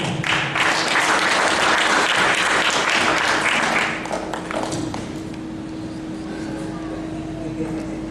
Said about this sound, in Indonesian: Yang keras tepuk tangannya saudara